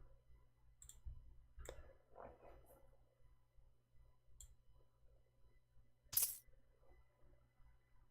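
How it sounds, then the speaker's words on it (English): A coin clicked in the video game Gamblers Table, heard as a few soft, faint clicks over a low steady hum, with one sharper, brighter click partway through. "Clicking the coin."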